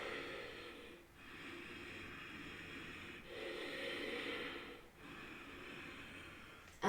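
Deep, slow breathing held in a yoga pose, with steady long breaths and brief pauses between them, faint and close.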